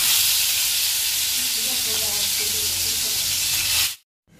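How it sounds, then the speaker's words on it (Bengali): Pieces of boal fish hiss loudly in hot mustard oil, a dense, continuous sizzle close by that cuts off abruptly near the end. "এবার এক এক করে মা মাছগুলো ভেজে নেবে"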